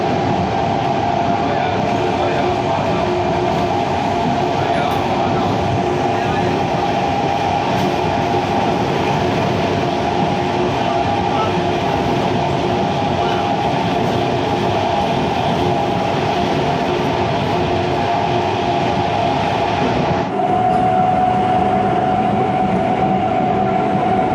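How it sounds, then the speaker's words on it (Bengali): Inside an empty suburban train near Sonarpur, a loud, steady mechanical hum and rumble carries on unbroken, with a slight shift in tone near the end. "ট্রেন দেখুন পুরোপুরি ফাঁকা, এবং সোনারপুরের কিছুটা আগে দাঁড়িয়ে রয়েছে বেশ কিছুক্ষণ।"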